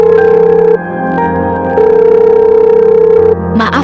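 Phone call tone in an animated school drama, two long steady ringback tones separated by a pause, loud and clear with no talking over it, ending in a brief click.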